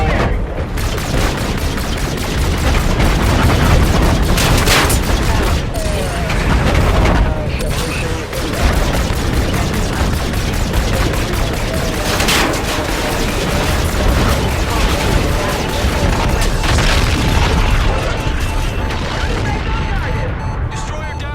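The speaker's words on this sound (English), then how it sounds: "Incoming missile." Call of Duty Infinite Warfare space combat: missile strikes and explosions roar almost without a break, loud and dense with heavy booms and rapid gunfire, and radio voices call out over the din.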